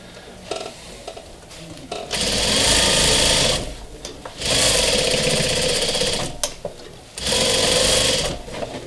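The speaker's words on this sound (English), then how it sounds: "Almost done sewing the cushion, and then I'm going to show you how to stuff the cushion." Sewing machine stitching a sofa cushion during upholstery, running in three loud sustained bursts with short pauses between them, close up and with no talking.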